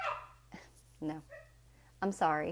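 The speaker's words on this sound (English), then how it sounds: "you can hear my puppy downstairs barking" A puppy barks from downstairs in a house, a few short yips heard faintly between and under nearby talking.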